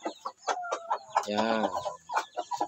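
Hens cluck in a run of short, close calls with a longer throaty burst in the middle; a person speaks briefly at the start.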